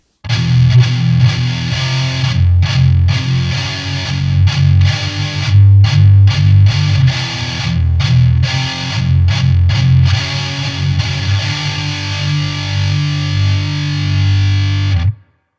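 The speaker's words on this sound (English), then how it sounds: "higher settings of the weight control adds more low-end girth" A heavy distortion guitar pedal with its weight control turned up chugs through thick, low-end-heavy riffs, loud and continuous with sharp stops and restarts between palm-muted bursts, ringing out at the finish.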